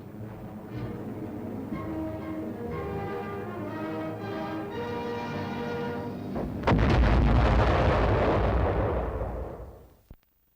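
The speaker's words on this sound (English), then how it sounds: "it automatically explodes a projectile just before it reaches the target." A projectile exploding from a proximity fuse in Korean War-era weapons footage: a loud, booming blast erupts midway through steady background music and rolls on for several seconds before cutting off, followed by a faint final thud.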